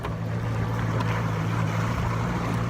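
A boat idles slowly into a canal on the Florida coast, its engine a steady low drone with light wind and water wash, no speech.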